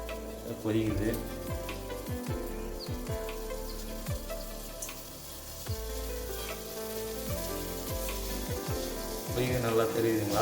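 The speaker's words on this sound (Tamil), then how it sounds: "கொதிக்குது." A pepper decoction with a few peppercorns boils in an iron pot, giving a soft, continuous bubbling and sizzling that stays fairly quiet and close.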